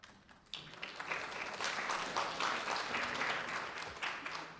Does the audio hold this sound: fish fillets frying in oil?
no